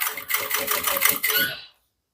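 A sewing machine runs in short rapid bursts, stitching piping close to the cord on a handmade bag, a rattling mechanical chatter heard up close that stops abruptly.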